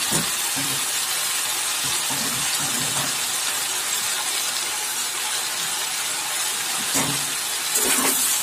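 Bottle gourd greens fry in a pan with other vegetables, giving a steady, even hiss of sizzling oil throughout, with a few faint clinks and stirring sounds near the end.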